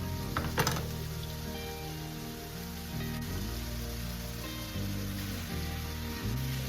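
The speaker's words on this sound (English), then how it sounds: "I want to leave that getting a nice browning before I really start mixing it" Crumbled Italian sausage browns in a frying pan, a steady close sizzle and crackle that carries on throughout.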